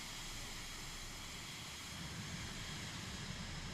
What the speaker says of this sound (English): enjoy the sounds of this airplane, it does sound pretty nice